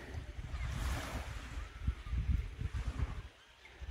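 Surf washes in at Chatham Beach along the Te Araroa Trail, a soft, rolling rush of waves mixed with gusty wind buffeting the microphone, fairly faint and continuous with no talking.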